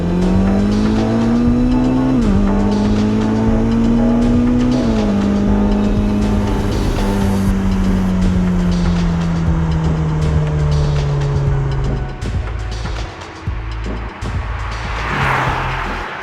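A Ferrari SF90 Stradale plug-in hybrid supercar drives along with a steady, loud engine drone, its pitch sweeping up and down through gear changes, then the engine note drops away near the end.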